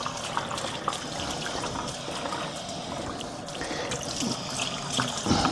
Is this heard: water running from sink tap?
yes